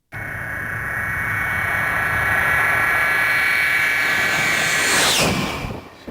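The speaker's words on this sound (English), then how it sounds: "F-14 breaking the sound barrier." F-14 jet screaming past at high speed over an aircraft carrier, a loud sustained roar that swells with a rising whine, peaks in a sharp swooshing sweep, then cuts off quickly into quiet.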